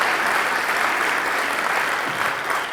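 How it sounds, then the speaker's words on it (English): An audience at a conference keynote applauds steadily, a dense, even wash of clapping that holds at a constant level without pauses. "Can we have a round of applause for everyone that shared"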